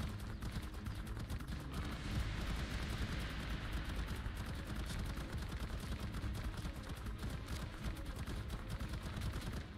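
Rapid automatic gunfire in the survival game Ark: Survival Evolved on the Fjordur map, a dense, continuous barrage of shots with heavy low-end rumble, loud and sustained throughout with no pauses.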